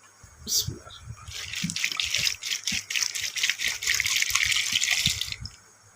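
Water pours steadily into a cooking pot holding fresh corn cobs, potatoes and salt before pressure cooking, a close, continuous splashing rush that tapers off at the end.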